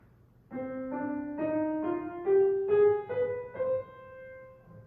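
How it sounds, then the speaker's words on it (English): A harmonic minor scale climbs step by step in sustained, legato notes, played alone as a single melodic line at moderate volume. "What I just played was a harmonic minor scale."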